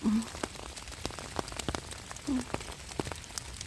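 Rain falls in a German forest in winter during mushroom picking, a soft continuous patter with scattered sharper drops ticking close by, and two brief faint vocal sounds.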